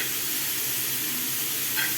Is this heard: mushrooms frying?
yes